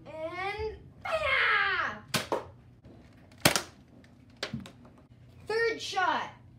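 Nerf blasters firing in a backyard-style point battle, several sharp snapping pops spaced a second or so apart, mixed with children's excited shouts and talk.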